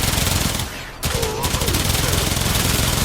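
Rapid automatic gunfire from the Aksomati Prime in Warframe, a dense continuous stream of shots that breaks off briefly near the start, then resumes steadily and loudly to the end.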